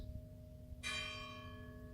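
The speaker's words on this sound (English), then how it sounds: "Listen to the sound of the bells." A bell strikes once and rings on, its bright tone slowly fading over a soft steady hum, with another strike starting at the very end.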